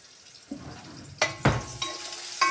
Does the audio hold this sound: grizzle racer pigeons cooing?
no